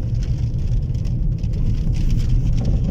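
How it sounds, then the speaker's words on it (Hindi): Dusty storm in Dubai with rain drumming on a car, a dense close rushing patter that holds steady and loud, no voices. "आ रहा है तूफान, आ रहा है दुबई वाला तूफान इधर आ रहा है।"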